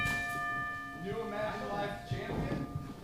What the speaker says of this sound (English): With a ring of the bell